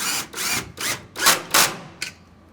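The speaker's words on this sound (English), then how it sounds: "We'll drill the hole first and then put the large screw in." A power drill bores a hole while a hinged security door is installed, sounding as a run of six short, loud buzzing bursts with brief pauses between them, close up.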